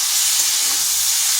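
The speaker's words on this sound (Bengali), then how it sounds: "এরপর ওই তেলের মধ্যে দিয়ে দিচ্ছি এঁচোড়গুলো।" Drained young jackfruit pieces hit hot oil in a pan, producing a loud, steady, close hiss of frying that fills the whole moment without pause.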